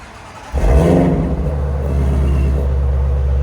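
A 2017 Ford Mustang GT350 5.2L V8 with resonator delete and X-pipe starts with a sudden loud burst, exhaust valves closing, then settles into a deep, steady idle rumble close by.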